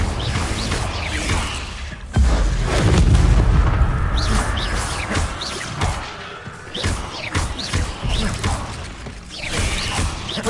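A Confringo fire spell blasts in Hogwarts Legacy inside a spider-infested house, heavy booming explosion and crashing thuds with a rumbling tail, followed by scattered smaller impacts.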